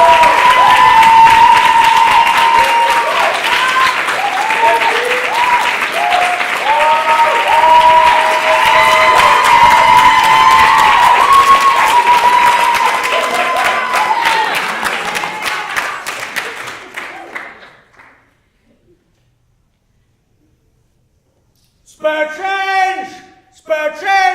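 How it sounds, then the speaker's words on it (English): Loud audience applause mixed with cheering and shouts fills a performance hall for a Latinx performance celebration. It holds steady, then fades out and falls silent, and a voice comes in near the end. "Let's have a round of applause to bring him to the stage here tonight."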